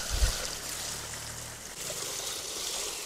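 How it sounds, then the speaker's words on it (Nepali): Cold water flows through grass in a sunny outdoor stream, a steady gentle trickle and rush that carries evenly from start to end with no voices. "क्या मजाले पानी बगिरहेको छ नि।"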